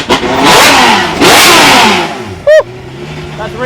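A Delage V12 hypercar engine revs hard in two long, rising blasts, then gives a sharp, brief bark before settling into a lower idle, loud and close throughout.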